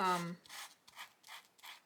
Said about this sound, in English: you can take your sanding and you can sand in that